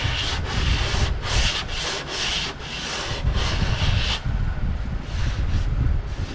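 Skim-coated body filler on a car panel sanded smooth by hand, rhythmic close rasping strokes in quick bursts, loud and continuous with short gaps, no talking.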